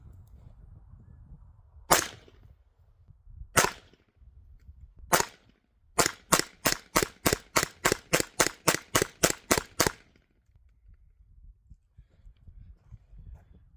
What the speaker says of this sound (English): So let's take a couple shots here.